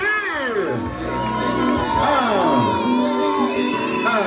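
Wedding reception guests cheer and shout together in a lively crowd roar, with voices rising and falling over several seconds and chatter mixed in.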